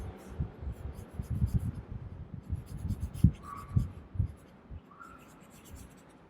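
Pen writing on paper during a math exam lesson, a close scratchy scrawl of irregular strokes with a few sharper taps, steady for several seconds and fading toward the end.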